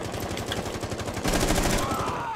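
Rapid automatic gunfire in Rainbow Six Siege on the Bank map, dense bursts throughout that grow louder and heavier partway through, with faint talk beneath.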